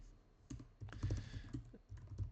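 Short burst of typing on a computer keyboard, close and clear, with a quick run of key clicks, a brief pause, then another cluster of strokes, no talking.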